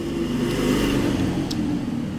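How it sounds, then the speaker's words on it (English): Motorbikes rev and roar past outdoors in a brief, loud engine surge that swells and fades within a couple of seconds, with no speech. "Sorry about the motorbikes."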